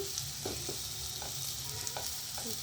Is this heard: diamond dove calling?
no